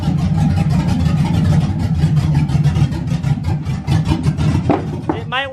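A bagged 1962 GMC truck with an LS-swapped engine rolls in reverse, its engine giving a steady loud close rumble before a few brief squeaks near the end.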